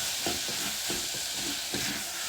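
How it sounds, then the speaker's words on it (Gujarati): Moraiyo, or barnyard millet, is tempered in a hot pan with a constant close sizzle of oil, punctuated by several soft scraping stirs at an uneven rhythm. "આવી રીતે અમે મોરઈ વઘારીએ છીએ"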